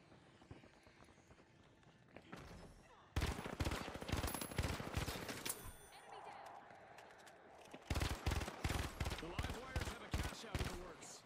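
MP5 submachine gun in the shooter game The Finals, loud bursts of rapid automatic fire coming in two main stretches with short pauses between them, mixed with quick clattering impacts and no talking.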